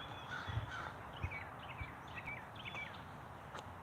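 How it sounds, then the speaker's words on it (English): Crows cawing repeatedly outdoors, a series of short harsh calls at moderate distance over a steady background hiss. "listen to the bird, do that."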